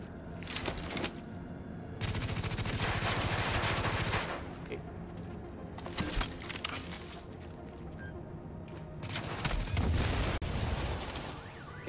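Bursts of automatic gunfire and booming explosions in the video game The Division come in long, loud volleys separated by brief lulls, with a player's voice talking now and then.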